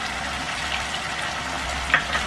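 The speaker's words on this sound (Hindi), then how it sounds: "अब हम इसमें अदरक लहसुन डाल देंगे," Ginger and garlic frying in a pan, a soft continuous sizzle with faint crackles and a brief stirring clink near the end, no voices.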